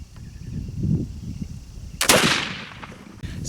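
A single sharp blast from a homemade black powder muzzle-loading gun, fired outdoors, with a loud crack followed by a decaying rumble and a faint background murmur beforehand.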